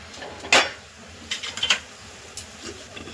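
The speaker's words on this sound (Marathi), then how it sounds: "हा जो खिसलेला नारळ आहे तो आपण टाकून घेऊया ह्यामध्ये व्यवस्थित तो पाकामध्ये आपण परतून घ्यायचा" A spoon clinks and scrapes against a pan as grated coconut is stirred in sugar syrup for coconut laddoos: a few sharp, separate knocks over a quiet background with no voices.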